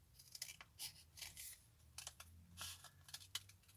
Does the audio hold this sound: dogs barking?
no